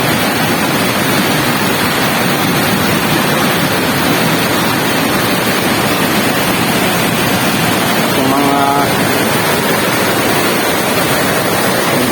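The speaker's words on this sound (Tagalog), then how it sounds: "Grabe talagang bulwak ng tubig guys oh." Floodwater gushes strongly through a river swollen by flooding from heavy rain, a loud, constant, close roar of rushing water that fills the whole stretch, with a brief faint tonal sound near the end.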